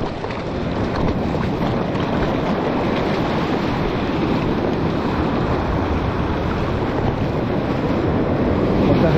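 Stormy sea surf and strong wind on an open coast during a swim out to a distant reef, a steady loud roar with heavy wind buffeting on the microphone throughout and no voices.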